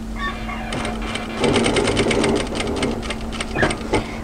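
A sewing machine runs at close range stitching an apron, its needle knocking in a fast, even mechanical rhythm over a steady motor hum, then slowing near the end.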